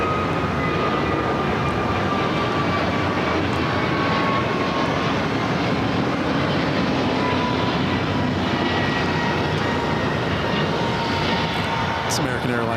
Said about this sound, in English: American Airlines Flight 297 headed to Honolulu on an A321 Neo